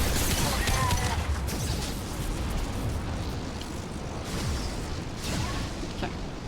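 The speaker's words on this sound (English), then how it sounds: "Watch out, flashbang." A flashbang grenade goes off in Mass Effect 2, a loud broadband blast at the start that settles into a sustained rumbling wash of noise, with a voice speaking over it.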